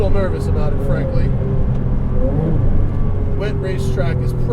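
A turbocharged 2007 Porsche Cayman S engine drones loudly and steadily on a wet racetrack, with a rising and falling rev and a turbo whine, under continuous close talk from the driver.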